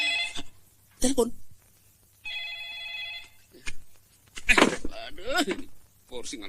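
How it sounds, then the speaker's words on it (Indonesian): A telephone rings with one clear electronic trill burst lasting about a second, set between stretches of speech from people in the room. "Itu juga telepon berderang-derung"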